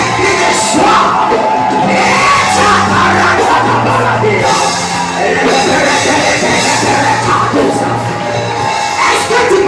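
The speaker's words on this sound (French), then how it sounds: "Est-ce que tu peux pousser les cris de joie?" A church congregation at a worship service shouts and cries out joyfully, a loud, continuous mass of overlapping voices with steady tonal music-like bands running underneath throughout.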